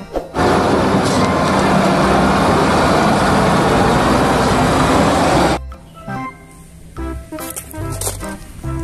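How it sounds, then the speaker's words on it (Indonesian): Toy cement mixer truck, a loud, steady rumbling whir running for about five seconds before cutting off abruptly, followed by scattered lighter clicks and rattles. "Widih, lihat, ada mobil truk molen."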